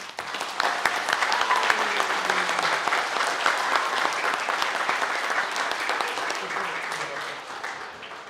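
A school senior prizegiving audience breaks into sustained applause, a broad wash of many hands clapping that stays loud and even before tapering slightly toward the end.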